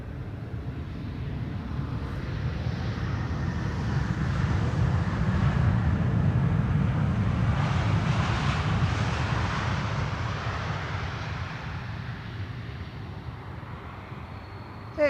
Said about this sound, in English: KLM A321neo arriving from Athens